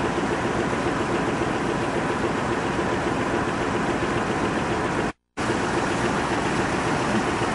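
An old first-generation diesel locomotive idles in a rail yard with a steady, dense rumble and hiss, continuous and close, broken only by a split-second cut near the end.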